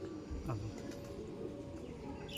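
Andhra pigeons coo softly in a low, rolling murmur, close by but quiet, over steady background noise with a few faint chirps.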